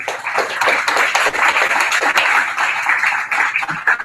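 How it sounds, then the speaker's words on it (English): An audience at a City of Toronto public consultation on a casino proposal at Woodbine Racetrack gives a round of applause, steady crowd clapping that fills the room at moderate volume. "Round of applause for yourselves and all the other folks who are here with us tonight"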